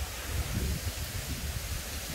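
Wind gusting through palm trees at the shore as a storm builds: a loud, continuous rushing roar with low rumbling buffeting, steady throughout and with no voices.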